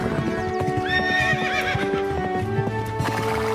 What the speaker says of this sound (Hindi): दूसरे दिन सुबह ही शुक्ला जी एक शानदार अरबी घोड़ा किराए पर ले आए।